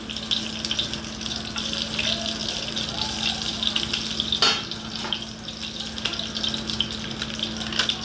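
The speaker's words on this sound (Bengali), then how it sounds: "এরপরে আমি এর মধ্যে দেব রসুন কুচি," Chopped garlic frying in hot oil in a pan, a continuous soft sizzle under a steady background hum, with light stirring and one sharp clink partway through, fairly quiet throughout.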